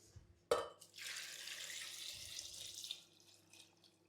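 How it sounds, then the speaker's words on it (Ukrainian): Cold tap water pours into a pot of young potatoes after a sharp knock, a steady close splashing rush lasting a couple of seconds before it stops and trails off with faint drips. "І заливаємо холодною водою."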